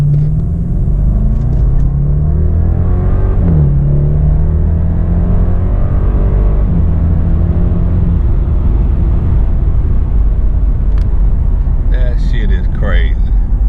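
A heavy BMW 650i Gran Coupe with a turbo engine pulls hard through second, third and fourth gear, its engine drone rising and falling steadily with each shift. It is heard from inside the car, loud and close, with a brief voice near the end.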